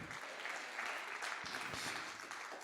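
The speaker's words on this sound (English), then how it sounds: "Somebody clap your hands like you're getting this. Come on, keep clapping." An audience at a sermon claps hands together in a continuous, fairly faint wash of applause.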